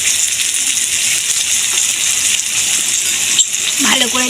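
Potatoes sizzle steadily in hot oil with turmeric, chili powder and salt, a continuous close frying hiss that carries evenly throughout, with a voice speaking briefly near the end.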